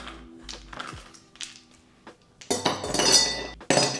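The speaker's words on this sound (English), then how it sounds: "Next, I add some ice cubes into the glass." Ice cubes tumble into a drinking glass while an iced protein coffee drink is made, giving a few scattered clinks and taps, then two louder bursts of rattling ice near the end, close and clear with no talking.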